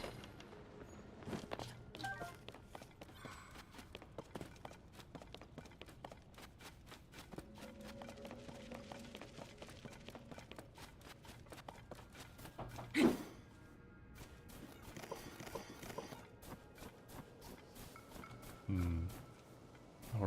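Footsteps of a character walking through Zelda: Tears of the Kingdom, a quiet, fairly steady patter of soft steps mixed with light game ambience and a few brief thuds, with no voices.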